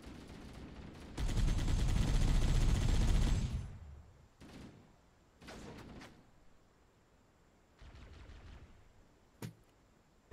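Gunfire in the Halo video game, a long roaring burst of automatic fire followed by several shorter volleys and a sharp single crack, loud and without any speech.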